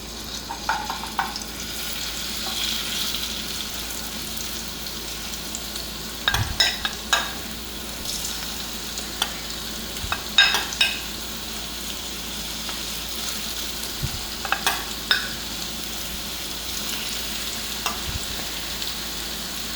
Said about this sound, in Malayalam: എണ്ണ ചൂടായി വരുമ്പോൾ നമുക്കിത് വെളിച്ചെണ്ണയിലാണ് വറുത്തെടുക്കുന്നത്